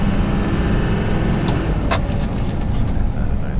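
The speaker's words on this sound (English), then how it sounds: "I just wanted to set up this video in a couple different areas, hearing the way this truck drives." A big blue GMC truck drives along with a continuous, fairly loud engine rumble, while people talk over it.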